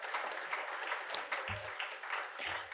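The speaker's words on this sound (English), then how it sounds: "So let's give them a round of applause." Applause from a banquet audience rises as a steady wash of many hands clapping, heard at a moderate distance, with a few low thumps mixed in.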